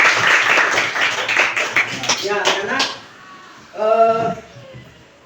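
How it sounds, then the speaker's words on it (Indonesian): A group of children clap together during a classroom religious lesson: a dense, rapid burst of applause lasting about three seconds, after which a single voice speaks briefly. "Oh ya, puji Tuhan. Tepuk tangan."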